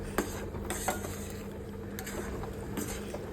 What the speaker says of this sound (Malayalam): ഒരു കപ്പ് റാഗിപ്പൊടി കൂടി ചേർത്ത് നല്ലതുപോലെ ഇളക്കി യോജിപ്പിച്ചെടുക്കാം